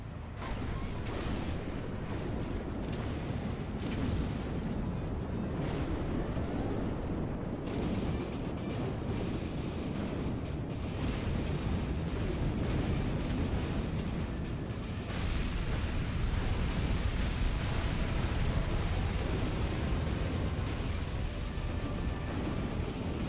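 Particle cannon firing in Command & Conquer Generals (Contra mod), a sustained, dense roaring rumble with crackling bursts that stays loud and steady for over twenty seconds, no voices.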